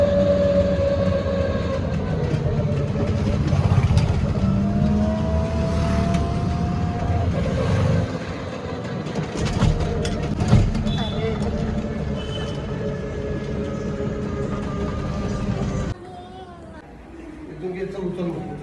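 A local commuter train rolls past at close range, a steady loud rumble of wheels and rail noise running under people talking, then cutting off sharply near the end.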